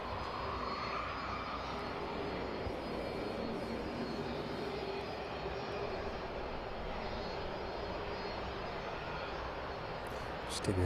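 A Boeing 757 jet taxis along a taxiway at East Midlands airport, a steady, moderately loud engine roar and whine that holds evenly throughout with no speech over it.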